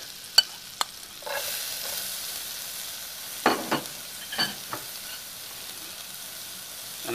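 Soft sizzling of shallots in butter in a pan with a few sharp clicks and scrapes of a utensil, quiet and close.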